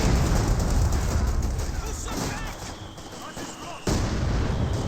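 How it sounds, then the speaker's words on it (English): Triple Wehrmacht mortars firing in a strategy video game: a dense, loud barrage of booms and blasts that runs throughout, dipping briefly before surging again, with a voice talking over it. "Triple mortar there. Triple Wehrmacht mortar."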